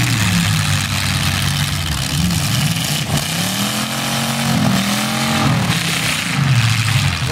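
Loud, continuous roar of several car engines at a demolition derby in Durban, revving and rumbling at varying pitch, with no voices.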